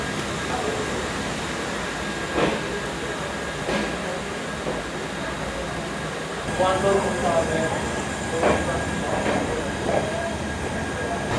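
A train pulls out of Bolpur Shantiniketan station, its rolling rumble and wheel clatter steady with occasional knocks and faint squeals, while a voice talks over it.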